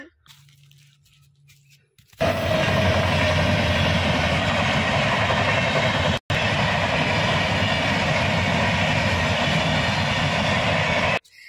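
After a quiet start, a loud, steady rumbling roar of a train rushing past nearby, continuing almost unbroken until it cuts off.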